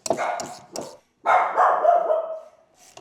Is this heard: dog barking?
yes